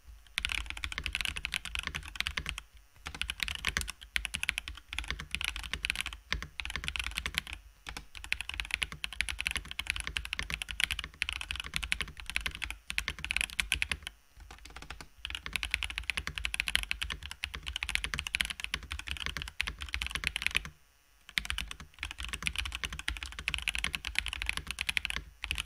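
Steady typing on a Marvo Monka KG991W keyboard with Cherry MX Red-type switches, close and fairly quiet, in uneven bursts of rapid key presses broken by short pauses.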